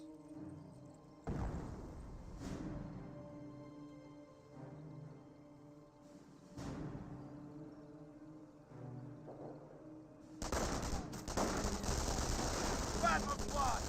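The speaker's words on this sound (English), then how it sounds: "Rifle Squad taking some shots." Bursts of gunfire in Company of Heroes crack out over a steady rumbling background, with a louder, dense barrage of shooting and blasts near the end.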